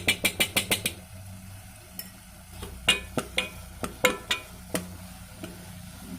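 A spoon stirs ghee into a sizzling banana flower curry in a pan: a quick run of sharp, close scraping knocks, then scattered, irregular strokes over a faint background hiss.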